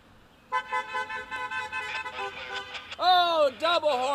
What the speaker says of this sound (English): Oh, double horn salute.